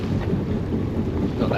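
Steady wind roars at sea aboard a boat, a constant close buffeting rush with no voices.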